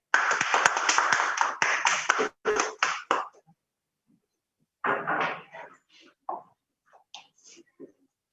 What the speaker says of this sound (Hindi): आप सबकी भरपूर तालियों में हम यहाँ पर दावत देंगे सर गुलाम जिलानी रहमानी को